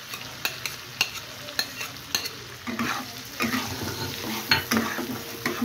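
Ground spice paste for prawn bhapa stir-fried in a pan over a raised flame, a steady sizzle broken by sharp scraping clicks of the spatula, with louder, denser frying in the second half.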